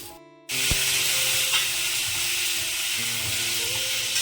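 Vegetable curry for a vegetarian khichuri meal set on a kitchen gas stove gives a steady, close sizzle with a faint bump at the start, the hiss holding evenly throughout with no talking.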